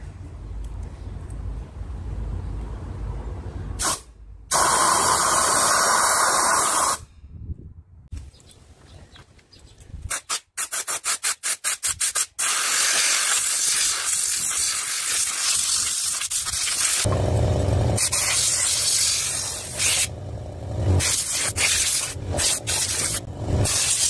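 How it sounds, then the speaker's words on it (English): An air hose blasts dust out of a Petrof piano action outdoors, a loud, roaring hiss in long bursts broken by short pauses and rapid on-off stutters, with faint birdsong behind it. "I've brought the action outside now to uh, give it a good blast with the air hose"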